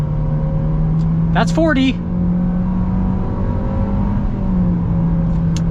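A 2021 Nissan Kicks SR accelerates with a steady, moderate engine drone heard from inside the cabin, the pitch rising slowly while someone talks briefly over it.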